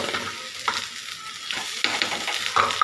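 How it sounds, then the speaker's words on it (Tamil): A quarter kilo of cut onions half-fried in a pan for an okra stir-fry, sizzling steadily with occasional stirring scrapes and clicks, close and moderately loud. "வெங்காயம் நல்லா ஓரளவுக்கு பாதி ஃப்ரை ஆகிட்டுருக்கு"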